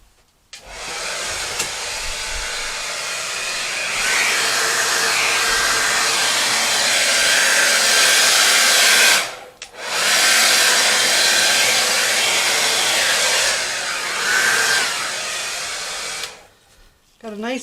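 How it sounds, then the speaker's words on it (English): A hair dryer blows steadily at close range with a loud, airy whoosh, briefly cutting out and restarting midway, then stopping near the end. "Now let's see if I can get this moving with my blow dryer here."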